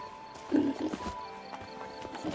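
Roach the horse clip-clops in The Witcher 3, with a few soft hoofbeats and a brief snort in the open as a quiet voice talks over it.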